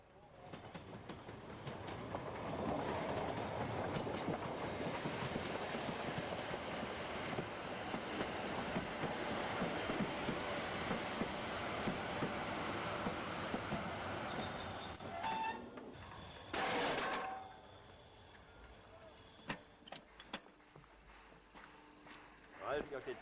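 A narrow gauge steam train climbing toward the Brocken in Germany rumbles and clatters close by with squealing wheels, then fades, leaving sharp hisses, clanks and a few distant voices.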